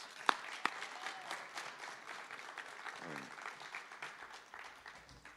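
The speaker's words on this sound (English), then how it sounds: "let's give them a round of applause" Applause from an audience at a college signing night for senior athletes, a moderate scattering of claps in a large room that softens gradually, with a few sharper claps early on and faint voices underneath.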